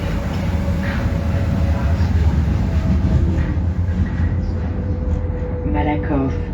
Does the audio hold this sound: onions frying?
no